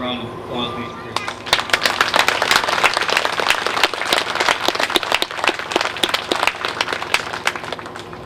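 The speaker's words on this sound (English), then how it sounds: "Round of applause, please, for Chris." Applause breaks out at a police week ceremony in Hilo as Chris is introduced to present gloves, a dense burst of many hands clapping that starts after about a second and carries steadily to the end, with some talk underneath.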